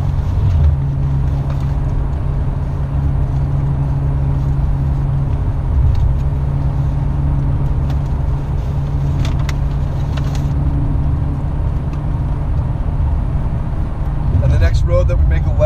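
A car cruises on the highway heading into Redlands, California, giving a steady, loud road and engine rumble that stays constant throughout, with a brief rattle near the end.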